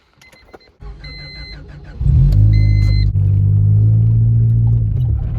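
A 1988 car sits parked before the engine turns over after a short crank, then settles into a loud, steady, deep rumbling idle that holds close and continuous.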